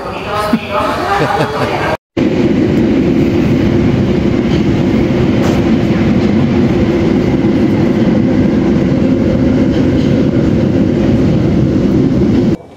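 Steady, loud rumble and clatter from inside a moving Tokyo train carriage, continuous after a brief gap near the start, with faint voices at the beginning.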